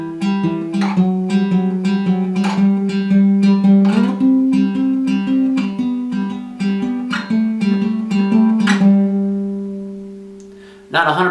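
Guitar playing a riff from a song in a lesson setting, with repeated plucked notes over sustained lower tones, steady and fairly loud, alone without talk and ending abruptly near the close.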